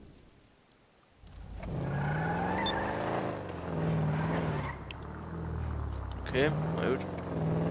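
A Gauntlet muscle car in GTA V Online pulls away with a rising engine drone that rises and falls in pitch as it drives, with someone talking over it throughout.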